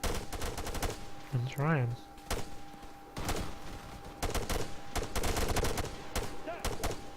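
Machine gun gunfire in the Arma 3 military shooter game, sharp rapid shots in bursts and scattered single cracks, with brief radio-style speech between them.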